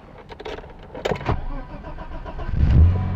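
A car engine cranks and catches with help from a portable jump starter, a few short clicks and whirs building into a loud rumbling start that swells and settles toward the end.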